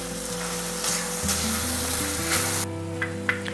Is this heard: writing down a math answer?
no